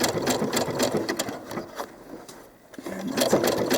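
A sewing machine runs close by as it stitches doll clothes fabric, with a fast rhythmic needle clatter that pauses briefly and then starts again. No one speaks.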